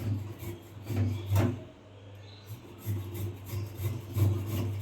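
Ginger is grated by hand on a grater in a home kitchen, a series of soft rasping rubs in an uneven rhythm, close and fairly quiet.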